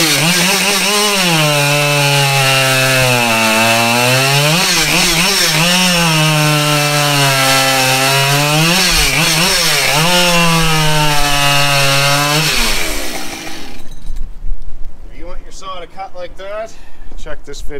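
A chainsaw cuts through a 12-inch piece of hardwood, its loud engine wailing steadily with pitch dips as it bogs in the wood, then cutting off abruptly near the end.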